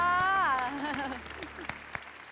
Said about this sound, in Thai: ขอเสียงปรบมือดังให้กับคุณจิ๊บครับ